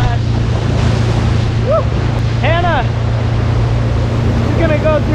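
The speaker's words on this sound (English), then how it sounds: "Start off with a nice splash." Water splashing and rushing behind a boat during wakesurfing, heard over steady engine rumble and wind noise on open water, with a few brief voiced shouts and exclamations.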